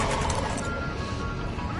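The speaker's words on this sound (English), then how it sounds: "Why does it sound like she's walking on glass?" Crunchy, glassy footsteps of a female character walking in a crime-solving video game, a steady dense crackle that fills the moment without any talk over it.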